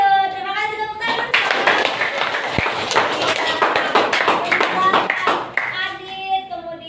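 A school class breaks into lively clapping for a classmate, dense close handclaps that rise sharply, continue steadily and then taper off, with children's voices around it.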